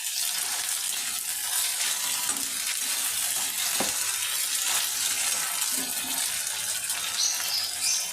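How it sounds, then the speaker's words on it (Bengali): A spoonful of ginger, garlic, coriander, cumin and black pepper paste fries lightly in a pan, giving a steady, hissing sizzle with a sharp tap from a utensil near the middle. "1 চামচ দিয়ে মশলাটাকেও একটু হালকা করে ভেজে নেব।"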